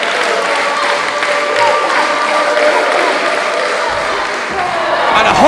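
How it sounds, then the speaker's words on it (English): Steady roar of a wrestling crowd at an FPW independent show, cheering and clapping continuously throughout, loud and close-filling, swelling slightly toward the end. "The crowd are right behind him."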